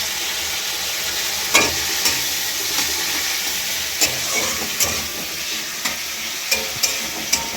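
Tomatoes frying in a generous amount of oil with vegetables, giving a steady close sizzle and hiss with occasional sharp stirring clicks and scrapes of a utensil against the pan.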